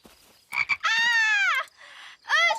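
Cartoon frog croaking in loud, stretched, warbling calls, one long croak followed by a shorter rising one, close and clear with no talk over it.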